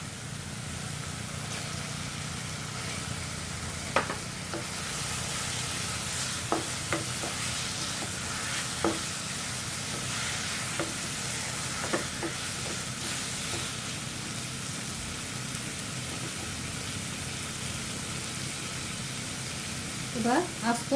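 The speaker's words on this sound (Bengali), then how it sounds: "এরপর মাছটা আমি ঢেলে দেব।" Fish frying in hot oil in a pan, a continuous loud hiss and crackle throughout with a few sharp utensil knocks, a faint voice now and then beneath it.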